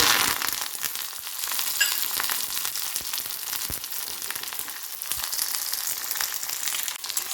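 Onions and curry leaves sautéing in ghee for sambar: a steady, close, crackling sizzle with scattered pops and light stirring, no voices.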